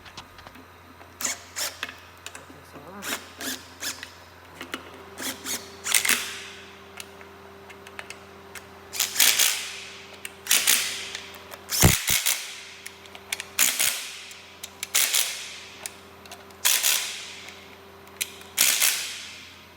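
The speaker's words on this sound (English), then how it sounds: "zip them down with my impact gun" An impact gun zips down valve cover bolts on a small-block Chevy engine in a series of short, sharp rattling bursts separated by pauses, close and fairly loud, with no talking.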